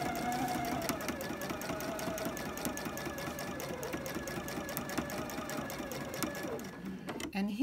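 A sewing machine stitches in the ditch along the seams of a quilted pillow, running as a fast, steady mechanical whir with rapid needle ticks, close and continuous for several seconds before slowing and clattering at the end.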